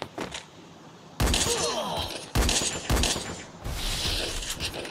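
Gunfire in the Free Fire mobile shooter game, sharp bursts of shots and impacts that arrive in several loud clusters separated by quieter gaps.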